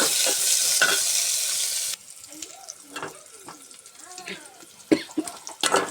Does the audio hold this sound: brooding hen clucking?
no